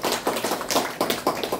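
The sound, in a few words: applause for an introduced guest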